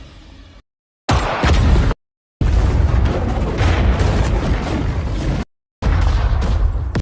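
Film explosions: loud, deep booming blasts in several bursts, separated by brief silent cuts, the rumbling roar sustained for a few seconds at a time, close and heavy with no voices.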